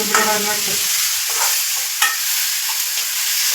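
Meat fries in a pan with loud sizzling and stirring scrapes, an initial burst of spattering that settles into a steady hiss with occasional spoon knocks.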